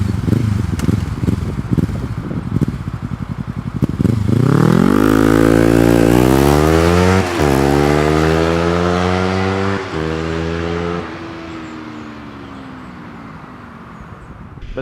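A Kawasaki Ninja 300 fitted with an Akrapovic exhaust revs up sharply and holds high, then steps through a few rises and falls before easing back toward idle. The loud, close engine note sounds alone.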